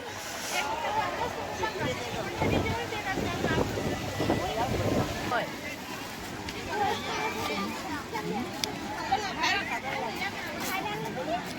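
Wind rushes and buffets the microphone steadily throughout, under people talking nearby.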